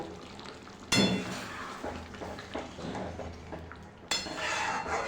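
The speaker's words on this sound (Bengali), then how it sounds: "আবারও ভালো করে নাড়া দেবো" Egg chilli with tamarind being stirred in a pan with a metal utensil, two sharp clanks against the pan followed by softer scraping and stirring, close by and fairly quiet.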